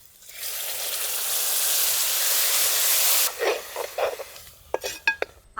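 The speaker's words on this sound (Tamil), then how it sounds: "அரைச்ச வாழைத்தண்டு சேர்த்து நல்லா வதக்கி விட்டாச்சுங்க." Ground banana stem being sautéed in a pan for soup, with cumin, crushed shallots, ginger and garlic; a steady loud steamy hiss fills the first seconds, then breaks into scattered stirring scrapes and softer sizzling bursts.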